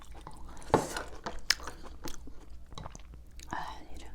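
Someone chewing tender meat from pork bone soup (gamjatang), soft wet chewing and crunching close up, a few sharp clicks between bites, no talking.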